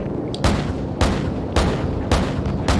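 Heavy gunfire and booming explosions from the video game Call of Duty Modern Warfare, loud, dense bursts recurring about every half second over a constant roar of battle noise, with no talking.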